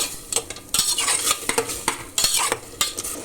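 Paneer biryani mixture being stirred in a pot, with a spoon scraping and clinking against the metal in quick, irregular strokes over a soft frying sizzle, close by and without talk.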